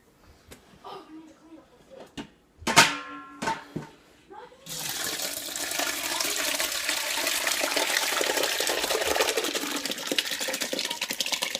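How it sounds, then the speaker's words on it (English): Water drained off cooked ground meat for Cincinnati-style chili into a pasta pot, heard as a few clanks of handling followed by a steady, fairly close rush of pouring liquid that runs on for several seconds. "we're going to drain all the water from the meat"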